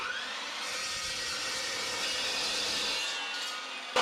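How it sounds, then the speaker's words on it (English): A cold saw cuts through half-inch-thick steel strap during a 1963 Loadstar flatbed build, giving a steady, loud, high-pitched grinding whine that holds for about four seconds before a brief clunk at the end. "Little cold saw here, she'll rip it, buddy."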